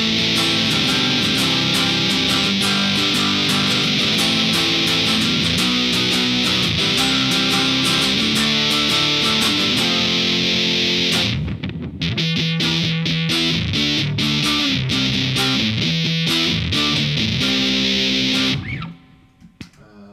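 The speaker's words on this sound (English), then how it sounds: "Just the neck pickup without the other circuit. It sounds more or less like this." A Crafted in Japan Fender Jaguar electric guitar played through its neck pickup alone gives a distorted, effects-laden tone, strummed chords ringing loudly and continuously before breaking into choppier stabs and a final fade.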